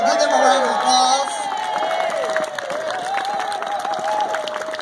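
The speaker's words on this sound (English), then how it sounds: "Y'all give them a round of applause." Crowd at a political rally applauding with cheers and whoops, a lively mix of clapping and shouting voices that stays fairly loud throughout.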